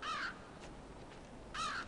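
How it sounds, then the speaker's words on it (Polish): A raven caws twice in the dark side-scrolling video game Limbo. The two harsh, clear calls are about a second and a half apart and stand alone with no talk. "O, kruk."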